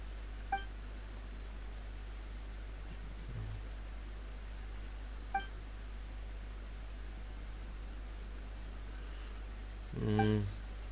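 Steady rain in the video game Genshin Impact, a continuous hiss of falling drops held throughout, broken by a couple of faint ticks and a brief louder burst near the end.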